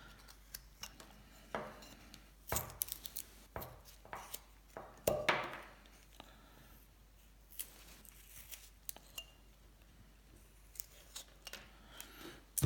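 A carving knife slices small wooden pieces for a bolo tie, giving quiet, close, irregular scraping cuts and sharp little snaps, some louder bursts between softer strokes.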